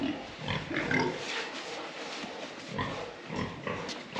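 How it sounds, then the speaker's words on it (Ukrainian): A pig in a farm shed grunts in several short, rough bursts at close range over steady barn background noise, with no talk. "Ось свинка, хтось забере її"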